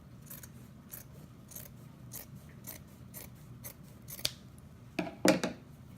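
Scissors cutting through pillow fabric in a steady series of close snips, about a dozen rhythmic cuts, ending with a few louder metallic clacks, no talking.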